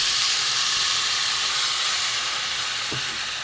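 Water poured onto fried spices in a hot pan sets off a loud, continuous steaming hiss that holds steady and fades only slightly, with one faint knock near the end.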